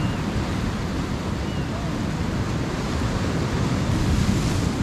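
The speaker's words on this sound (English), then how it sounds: "Waves are getting big." Big ocean waves surge and wash continuously around a crabbing boat, a loud, steady roar of surf with wind buffeting the microphone.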